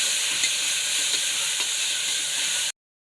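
Egg biryani ingredients are stirred in a pressure cooker, giving a close, steady sizzling hiss with faint scraping ticks that runs without a break and then cuts off abruptly.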